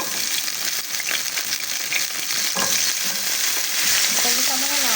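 Garlic, onion and carrots stir-fry in a hot pan with a loud, continuous sizzle, broken by scraping stirs and a few clatters of the utensil against the pan.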